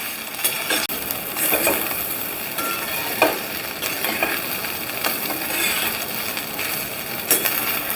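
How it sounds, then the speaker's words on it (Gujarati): A spoon scrapes and stirs dudhi muthiya with curry leaves in a hot pan, with soft sizzling and repeated clinking scrapes against the metal at an uneven rhythm, close and moderately loud. "હવે મુઠિયાને બરાબર મિક્સ કરી લઈશું."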